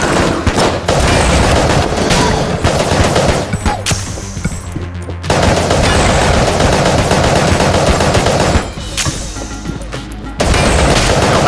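Rapid automatic gunfire in the twin-stick shooter Enter the Gungeon, loud sustained bursts with two brief pauses between volleys.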